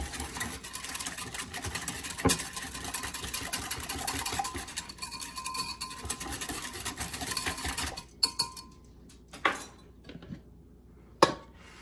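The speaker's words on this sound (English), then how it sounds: "And then I'm going to whisk it all together." A whisk rattles and clinks quickly in a bowl of chicken bouillon granules mixture, a dense steady metallic scraping close up, then stops, leaving a few sharp knocks and taps against the bowl.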